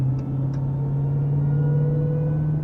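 A 2023 Dodge Demon 170 engine taken out of Eco Drive mode, a steady low rumbling drone heard from inside the car, continuous and fairly loud with no speech over it.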